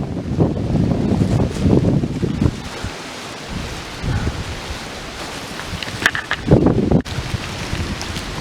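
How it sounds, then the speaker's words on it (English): Wind buffets the microphone in loud, gusty bursts, easing and returning unevenly, with a sharp rustle late before it drops off. "It's, I don't know, windy"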